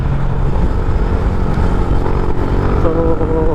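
A Yamaha Sniper 150 v.2 fitted with a 14t-42t sprocket set runs hard during a speed test. The steady engine drone is buried in loud, constant wind rush, with a voice speaking now and then.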